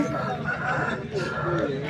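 A rooster at a chicken market in Vijayawada clucks and crows close by, with market voices talking over and around it.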